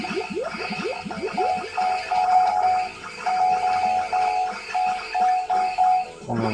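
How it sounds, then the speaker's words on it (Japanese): Repeated metallic clanging as shots strike a boss in the arcade game Space Harrier, a rapid run of ringing hits over the game's music and effects, loud and continuous. "ダメージを与えるこのカンカンカンって音がなんか好きなんですよね"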